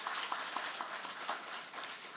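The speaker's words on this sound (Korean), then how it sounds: "우리 함께 이분들을 축하하는 박수" Church congregation applauds newly baptized infants and their families, a soft sustained patter of many hands clapping, moderately distant and even, with no voices over it.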